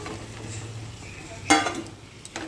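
Mushrooms cooked in a little oil with spices are stirred in a pan over a soft, low sizzle. One sharp scraping stir stands out near the middle, followed by a few lighter clinks, close by and without speech.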